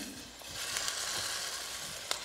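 Eggplant sizzles in hot mustard oil for baingan bharta, a soft, steady frying hiss with a few faint pops, heard close and without talk.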